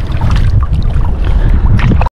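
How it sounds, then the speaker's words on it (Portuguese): Strong wind buffets the microphone on a river while fishing after heavy rain, a loud continuous low rumble with gusting roughness throughout, close and dominating, no voices. "mas tá ventando demais, pessoal, hein"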